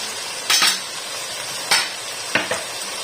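Green chili paste stirred into frying chicken, a few sharp scrapes of a utensil in the pan rising above a steady sizzle, close and moderately loud, no talking.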